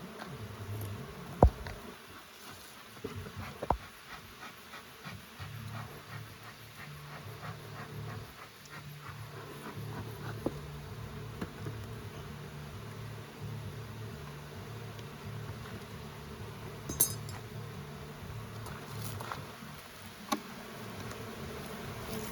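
Honey bees buzz steadily around a strong, heavy beehive, a dense low hum that carries through the whole stretch with a few sharp knocks and handling noises on top.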